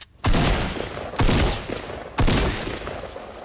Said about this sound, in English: next up is the well-known automatic Fortnite shotgun